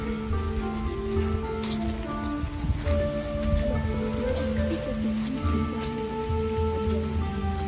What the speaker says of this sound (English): It's beautiful, I just wish it was not raining.